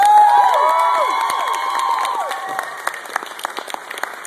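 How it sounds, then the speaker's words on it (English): Applause rises from a concert crowd at the Devil's Carnival tour, starting loud with whistles and cheers layered on top, then thinning into scattered claps toward the end. "So give them a round of applause."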